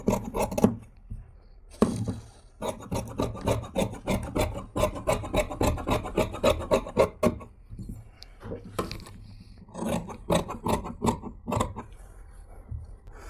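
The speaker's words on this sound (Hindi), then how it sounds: "अब जो है यहाँ से इसी निशान के हिसाब से हम इसका कटिंग कर देंगे" Scissors cutting cloth for a gents kurta, rapid rhythmic rasping snips in long runs with brief pauses, close and loud, no voices.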